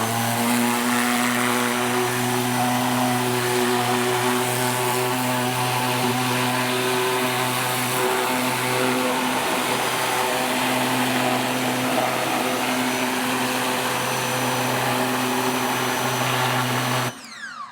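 A pressure washer spraying a car engine bay: a loud, constant motor drone with a steady tonal hum and a hissing spray on top, unbroken for most of the stretch before cutting off abruptly near the end.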